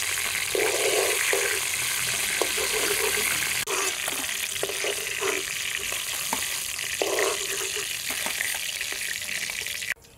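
Slices of chandana hilsa fish fry in hot oil in a wok, giving a steady, dense sizzle throughout with a few light clinks and stirring sounds on top.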